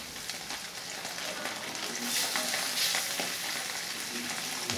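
Pabda fish frying in salted oil in a wok, a dense steady crackle and sizzle throughout, close and fairly loud, with brief stronger spatters partway through.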